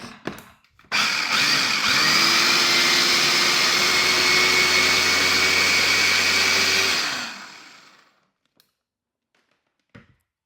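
A kitchen mixer blends homemade cream cheese with a loud, steady whirring drone that runs for about six seconds after starting abruptly, then winds down and stops, followed by a couple of faint knocks.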